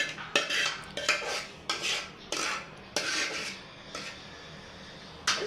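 A spoon stirs custard in a dish, making repeated scraping strokes that each end in a small clink. The rhythm is steady and close, with no voices.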